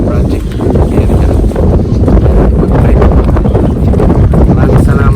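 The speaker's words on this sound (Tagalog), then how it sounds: "Malakas po ang hangin at madagim ang langit" Loud, steady wind roars and buffets the microphone throughout, with a constant rumble and no pause, outdoors at a field project site under a dark sky.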